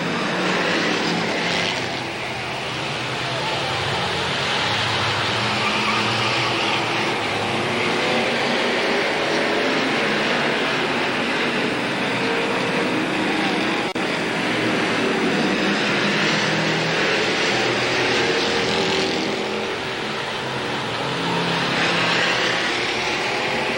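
Sportsman stock cars roaring off at the start of a 10-lap race at Capital Speedway, a loud continuous blend of racing engines swelling and passing, dense and sustained throughout.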